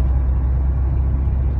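A 2008 Pontiac six-cylinder car driving, heard from inside as a steady low engine and road rumble that holds evenly throughout, with no talk over it.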